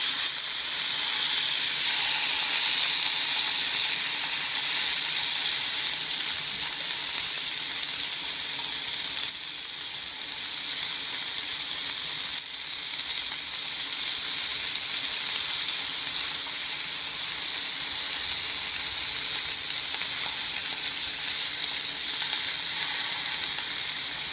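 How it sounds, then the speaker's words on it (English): Stew beef browning in a hot pan, a continuous loud sizzle and hiss that holds steady throughout, without speech. "I've got the stew beef in here browning."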